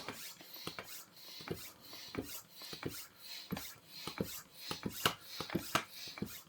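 A hand pump pushes air into an electric bike tire in a series of soft, rasping strokes, about two per second, faint and close, with no talking.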